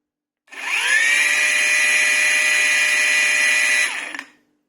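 A cordless angle grinder starts from silence, spinning up quickly into a loud, steady high-pitched whine with a bright tonal edge. It holds constant for several seconds, then cuts off and winds down abruptly.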